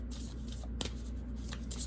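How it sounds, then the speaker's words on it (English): Tarot cards are shuffled by hand, soft papery riffling and brushing up close with a single sharper slap near the middle, quiet and without talk. "These are so hard to shuffle because my hands are so small."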